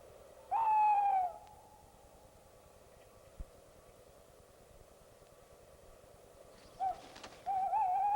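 Owl hoots at night in the open, a loud drawn-out call near the start and two more calls near the end, with long quiet gaps between them.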